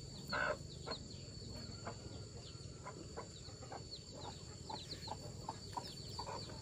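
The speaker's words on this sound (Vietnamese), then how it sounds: "Đàn gà con đẹp chưa?" Newly hatched chicks in a village flock peep in short, repeated chirps, fairly faint and scattered over a steady background hiss, with one louder call near the start and no talk.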